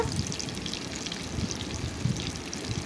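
Fish pieces frying in hot oil in a pan on low heat, a steady close sizzle and crackle with small spits and pops and no talking.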